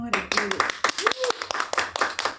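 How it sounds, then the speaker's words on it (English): Studio audience at a comedy lottery show erupting into clapping and cheering for comedian Nick, a dense burst of handclaps and shouts across the room, mixed with voices. "If you like Nick more than Greg, make some noise for Nick right now."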